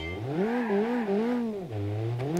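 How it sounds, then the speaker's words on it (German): A car engine in the driving game BeamNG.drive revs and accelerates, its loud, close, steady drone rising and falling in pitch through the gears with no voices over it. "Okay, wir geben Gas, Leute."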